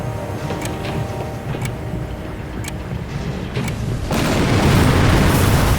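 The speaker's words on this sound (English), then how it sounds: "It's all coming down. One more explosion should finish it." An explosion in the video game Captain America: Super Soldier erupts as a sudden deep, broadband boom that swells and rumbles on, following a low drone punctuated by faint clicks.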